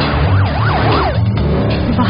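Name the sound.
ambulance siren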